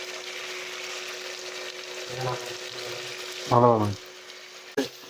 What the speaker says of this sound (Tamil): அதை வெங்காயத்தோடு போட்டு நல்லா வதக்கி விட்ருங்க அடுத்தது இஞ்சி பூண்டு பேஸ்ட்டு